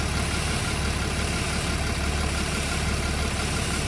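A car engine idling with a vacuum leak from a broken hose, heard as a steady close-up hiss over the low rumble of the running engine, continuous and without talk.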